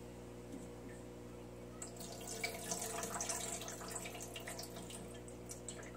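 An aquarium water changer draining water during a drain test, a soft steady hiss and trickle of flowing water with faint dripping, rising slightly after the first two seconds and continuing evenly, alone with no talk.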